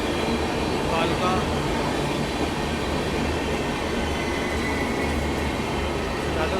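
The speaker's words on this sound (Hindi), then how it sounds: "हावड़ा कालका नेताजी एक्सप्रेस हो सकती है" The Howrah Kalka Netaji Express rumbles past, loud and continuous, with wheel and carriage noise and a constant roar of rolling stock. Voices are faintly present beneath it.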